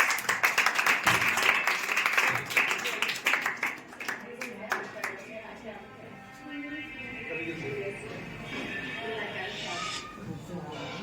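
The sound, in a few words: loud applause for the school founder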